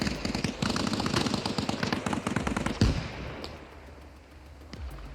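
Rapid bursts of machine gun fire from the video game ARMA Reforger rattle loudly for about three seconds, then cut off into quieter background with a single distant shot.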